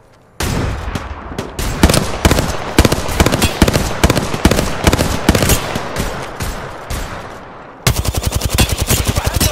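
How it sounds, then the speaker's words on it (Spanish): Gunfire in the battle-royale shooter Apex Legends: dense, loud bursts of automatic weapon fire crackle almost continuously, with a fast steady stream of close shots near the end. "¡Disparando!"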